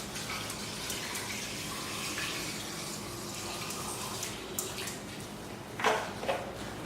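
Store-bought lemonade is poured into a sangria mix, a steady liquid stream and splash running throughout at close range, with a slightly brighter gurgle near the end.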